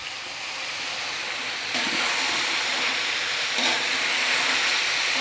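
Small chicken cubes and spices fry in a pan with a continuous close sizzle and hiss that grows slightly louder partway through.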